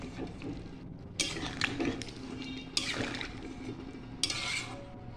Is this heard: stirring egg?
yes